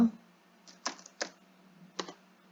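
Four or five crisp computer keyboard keystrokes entering a date of birth, close and distinct, spaced irregularly over a low steady hum.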